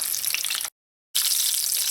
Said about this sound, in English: continue frying until you've fried out all of them